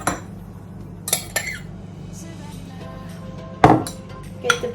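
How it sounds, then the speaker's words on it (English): Peach pieces dropped into a baking tray for a breakfast peach and blueberry cobbler, giving a few separate clinks and knocks at close range over quiet kitchen background. "Now we're going to get our baking tray, put our peaches in."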